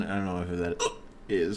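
A single sharp, voiced hiccup bursts out between stretches of a man's speech, loud and close.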